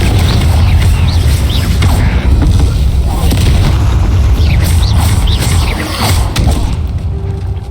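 Fiery Confringo blast spells erupting during a Hogwarts Legacy battle, a dense stretch of rumbling booms and crackling impacts that stays loud throughout, with a voice talking over the combat.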